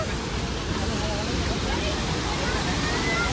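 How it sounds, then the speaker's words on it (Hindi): Harvalem waterfall crashing down with a crowd of visitors around, a dense, steady roar of falling water filling the whole scene, with faint crowd babble blended underneath. "ये हरवलेम वाटरफॉल।"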